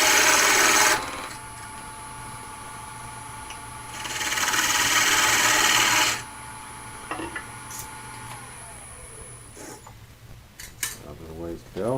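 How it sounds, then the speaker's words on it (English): A wood lathe turns a wooden jar lid while a tool cuts a 5/8 inch tenon, giving two bursts of harsh scraping hiss separated by a lower motor hum, then scattered clicks and light tool taps. "I'm just going to go ahead and make that little 5/8 inch tenon"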